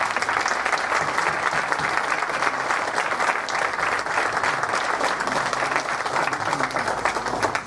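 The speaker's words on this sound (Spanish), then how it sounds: "Despidamos a la mesa con un aplauso" Sustained audience applause for a book-launch panel, dense steady clapping from a large crowd lasting throughout without pause, loud and even.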